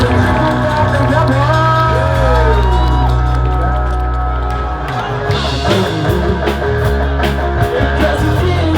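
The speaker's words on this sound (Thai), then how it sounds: "ขอเสียงปรบมือครับ" An audience at Amnat Charoen prison cheers and claps beneath loud, continuous music, with crowd whoops rising through the mix.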